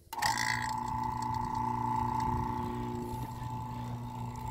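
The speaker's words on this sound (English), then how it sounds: "And so I'm going to go and turn on this vacuum pump." A vacuum pump starts up for evacuating a mini split system, quickly settling into a loud, steady motorized drone with a constant pitched hum that carries on unchanged, with no voices.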